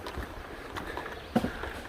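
Hiker wading into a stream crossing on the Appalachian Trail near the base of a roller coaster section, with soft close splashes and sloshing water under gusty wind noise, one sharper splash near the end.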